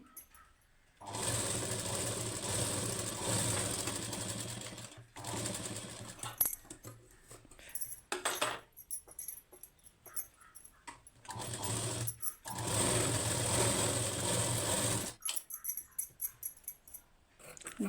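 A sewing machine double-stitches a blouse back seam through lining and main fabric, running in two long steady whirring bursts with shorter start-stop runs and clicks between them, close and alone.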